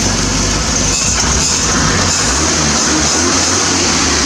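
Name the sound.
Triumph TR7 1980 engine revving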